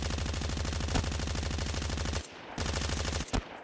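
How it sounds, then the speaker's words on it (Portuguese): Rapid automatic gunfire in the mobile shooter game Call of Duty Mobile, loud fast bursts of evenly spaced shots that break off briefly, then resume before a final single crack, with no talking. "O cara tá metendo bala."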